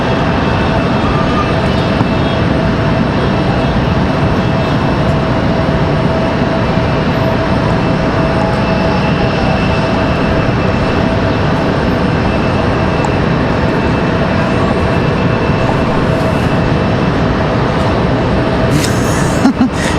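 A Delta A320 or A319 airliner readies for departure at Raleigh Durham International, its engines a loud, steady roar that holds for the whole stretch at close range, with no other sounds standing out.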